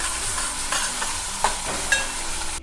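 Ginger garlic paste fries in a pan for a Hyderabadi mirchi ka salan, a close steady sizzle broken by a few scraping stirs of a spoon against the metal, with no voices.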